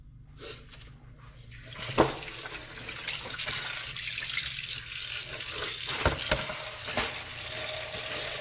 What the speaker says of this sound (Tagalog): Tapos, hugasan na po natin yung ano, tilapia.